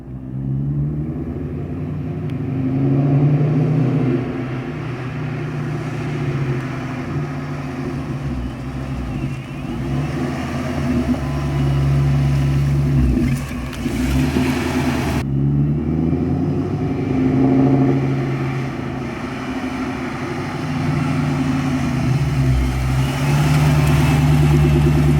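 A supercharged Ford Mustang GT engine runs loud and close throughout, rumbling and revving as the car pulls through gears, with one abrupt break partway where the sound cuts and resumes.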